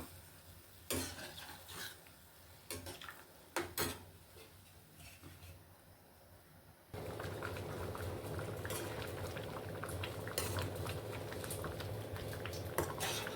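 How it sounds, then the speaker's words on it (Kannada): A pot of water for wheat rava upma bubbling at a low level, with a few sharp clinks of utensils early on, then a steadier, fuller boiling hiss taking over halfway through. "ಗೋಧಿ ರವೆ ತೊಗೊಂಡಿರೋದ್ರಿಂದ ಸ್ವಲ್ಪ ನೀರು ಜಾಸ್ತಿ ಇಡ್ಸುತ್ತೆ ಇದು ಚೆನ್ನಾಗಿ ಕುದಿಬೇಕು"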